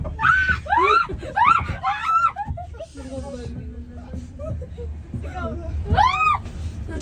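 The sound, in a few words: people screaming on a fast descending amusement park ride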